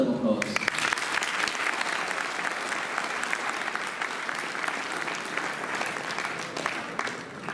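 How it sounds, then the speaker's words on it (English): Applause from an audience at a university World Theatre Day celebration, a dense, steady clapping that holds for several seconds and tapers slightly at the end. "Can everybody please welcome them with a huge round of applause."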